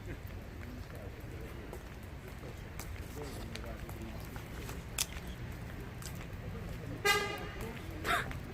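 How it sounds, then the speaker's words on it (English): A short car horn honk sounds out on a busy street, over steady traffic rumble and faint background voices. "You heard that honk?"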